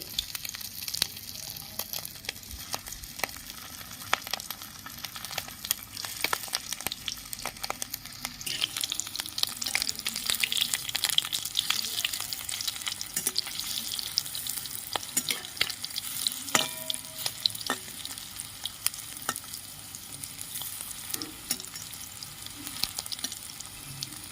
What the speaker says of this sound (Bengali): এই দেখুন কিভাবে বাদবাকি বড়াগুলো ভেজে নিচ্ছি